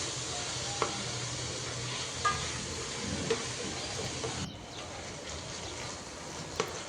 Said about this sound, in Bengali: এই ভাজিটা একটু নেড়ে চেড়ে একটু ঢেকে দিলে মুহূর্তেই সিদ্ধ হয়ে যাবে